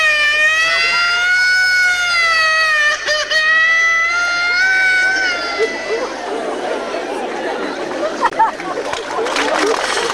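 An ambulance siren wails with a steady rising and falling harmonic tone for about six seconds, then fades into a jumble of street noise and chatter.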